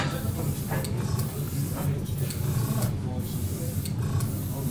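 Spray paint is applied to a plastic scale model in gentle, light coats, with several short hissing bursts of the can repeating at a steady pace against a low background hum.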